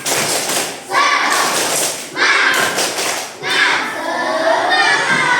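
Children in a classroom perform a rhythmic 'tepuk semangat' clapping chant, loud patterned bursts of claps and thumps with young voices joining in.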